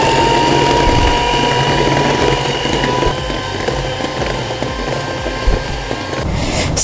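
An electric mixer whips Vivo topping cream with a continuous, buzzing mechanical whir and a faint rattling grind that holds steady at close range with no talk.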